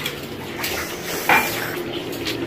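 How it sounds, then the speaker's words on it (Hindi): Dishes and pots are washed at home, with metal utensils clattering and clinking near the listener over running water, including one sharper clang midway. "रोज शाबाश बर्तन धोते रहो।"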